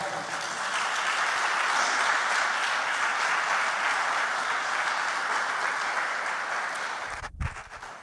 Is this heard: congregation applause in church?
yes